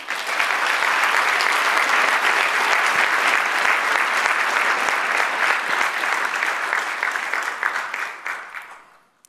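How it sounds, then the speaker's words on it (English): Loud, dense applause from a large audience honoring Milan's waste-free food hubs, sustained for several seconds and then fading out at the end. "Please give the city of Milan, the waste-free hubs, a loud round of applause."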